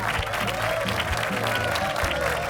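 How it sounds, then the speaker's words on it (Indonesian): Schoolchildren in a school applaud together in a dense, continuous wash of clapping that stays loud and steady throughout. "sudah ya tepuk tangannya anak-anak"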